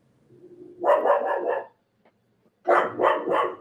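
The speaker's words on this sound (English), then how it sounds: "Hang on, my dog's barking." A dog barks close by in two rapid clusters of three or four barks each, separated by a short quiet pause.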